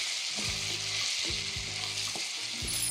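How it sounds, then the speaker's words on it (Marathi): Tomatoes and onion sizzle steadily in a pan, a constant bright frying hiss broken by repeated low scraping thumps of a spatula stirring the mixture. "आणि हे टोमॅटो ही छान कांद्यासोबत आपण शिजवून घेऊयात एक 4 ते 5 मिनिटं"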